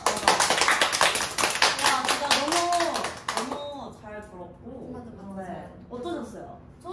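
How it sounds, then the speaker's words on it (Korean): A K-pop group claps for about three seconds, a quick bright patter of several pairs of hands mixed with cheerful voices, after which the members go on talking. "박수!"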